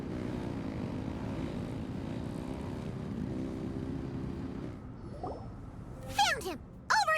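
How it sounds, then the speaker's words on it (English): Engines revving in Genshin Impact, a steady low droning hum of motors running for several seconds before fading, followed by a few sharp bright effect sounds; speech is faintly present. "Rev the engines!"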